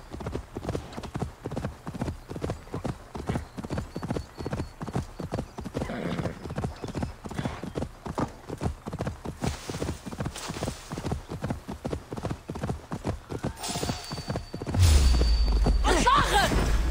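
Horse galloping in a video game set in Ireland, with rapid, even hoofbeats repeating throughout and a louder whoosh near the end.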